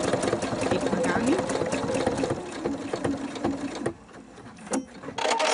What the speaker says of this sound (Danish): Maskinen står stille og syr elastikken lige så fint fast.